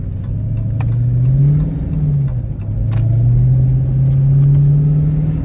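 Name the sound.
Dodge Hellcat engine whine while driving in snow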